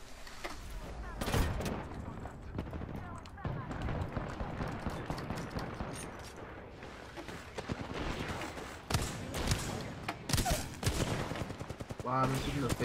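Rapid gunfire in an Apex Legends match cracks in repeated bursts with footsteps and movement between them, while players talk over the fighting.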